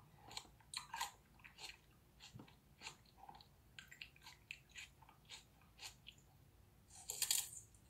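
Crunchy close-up chewing of honeycomb on aloe vera, a string of crisp bites and wet crunches in irregular bursts, quiet and intimate with a sharper crackle near the end.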